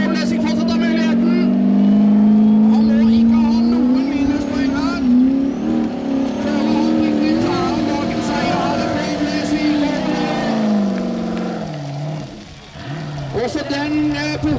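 A Formula Offroad car powered by a turbocharged Chevrolet Corvette V8 roars loudly at a track in Mysen, Norway, its engine note held high and wavering as it revs and climbs, then dipping briefly before surging again.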